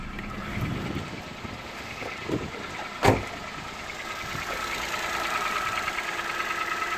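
Used car's engine idling at a British Car Auctions sale, a steady low rumble with a brief knock or clunk midway, no talking.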